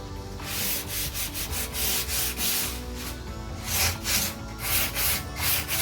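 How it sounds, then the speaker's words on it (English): Rhythmic scratchy strokes of hand sanding wood with sandpaper wrapped over a sanding sponge, repeated back and forth at a steady pace, close up with no talking. "I'm going to take the same sandpaper, I'm just going to put it over my sanding sponge"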